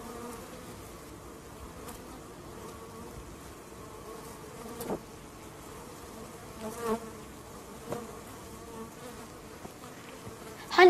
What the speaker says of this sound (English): Bees transfer pollen between the male and female parts, allowing plants to grow seeds and fruits.